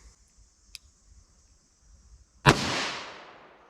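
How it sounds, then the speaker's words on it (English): A single loud .38 Special +P gunshot from a 4-inch-barrel revolver cracks out after a quiet stretch of faint handling noise, its blast decaying over about a second. "Let's see how the 38 Special+P does out of this 4-inch barrel."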